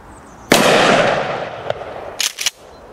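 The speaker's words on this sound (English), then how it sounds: "Introducing the night vision shotgun." A night vision shotgun fired outdoors at a target 15 yards away gives one loud, close blast with a long rolling decay, then a couple of softer clicks and clatters from the gun. No talking.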